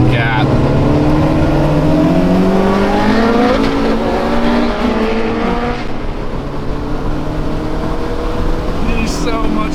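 A Honda car accelerates hard at high speed, its engine a loud, close, continuous roar that climbs steadily in pitch for several seconds before easing back slightly, with heavy wind and road noise underneath.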